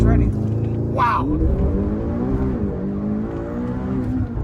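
A McLaren GTS turbocharged supercar accelerates at full throttle, its engine note rising steadily as boost builds, loud and close from inside the car, with someone talking over it.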